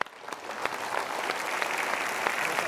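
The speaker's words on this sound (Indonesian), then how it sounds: "kita berikan tepuk tangan untuk mereka." An audience breaks into applause for young people at a motivational talk show, starting with scattered claps and building into steady, dense clapping.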